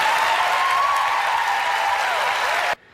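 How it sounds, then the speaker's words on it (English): Studio audience clapping, steady and full for nearly three seconds before cutting off abruptly into near silence. "Applause, applause."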